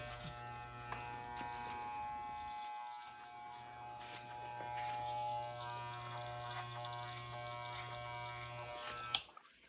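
Electric hair clippers run with a steady close buzz for most of the stretch, dipping briefly once as they move through hair, then stop with a click.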